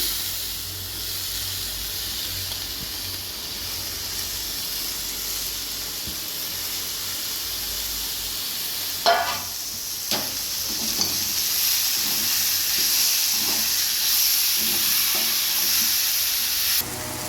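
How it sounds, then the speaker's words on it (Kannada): Cooked cluster beans stirred in hot oil in a pan, a steady loud sizzle and hiss throughout with a few sharp spoon scrapes and clanks partway through. "ನೋಡಿ, ಈಗ ತಿರುಗಿಸ್ತಾ ಇದ್ದೀನಿ"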